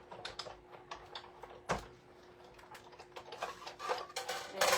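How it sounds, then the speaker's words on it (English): A die cutting machine runs a piece of cardstock through its rollers, giving off a faint, quiet stream of ticking and clicking with a few sharper clacks. "I'm gonna die cut that and quickly come back"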